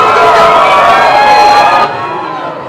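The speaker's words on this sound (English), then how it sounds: "In fact, they're cheering right now" A large crowd cheers and shouts loudly and continuously at Hillary Clinton's 2016 election night camp, with the roar dropping in level near the end.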